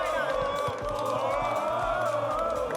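A large esports arena crowd at a Valorant Masters Madrid match between Karmine Corp and FunPlus Phoenix roars continuously, a dense sustained wash of cheering voices heard from within the venue.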